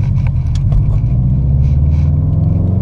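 A manual-transmission car pulls away in first gear, its engine a loud, close, steady low rumble that rises slightly as it drives off, heard alone without voices.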